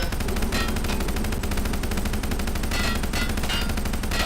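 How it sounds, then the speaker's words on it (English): Sustained rapid automatic fire from an M249 light machine gun in a Minecraft gun mod, a dense, loud, unbroken rattle of shots lasting several seconds with no pauses or talk. "is quite literally the M249 machine gun"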